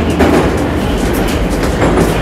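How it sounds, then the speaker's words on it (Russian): A metro train rumbles loudly with a steady low roar and faint rhythmic clatter, wheels grinding on rails as it slows from about 58 km/h under emergency braking; no voices. "Применяю экстренное торможение."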